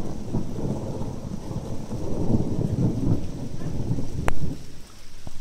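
Rain falls steadily during a severe thunderstorm in Bognor Regis, UK, with low thunder rumbling through it and one sharp crack near the end.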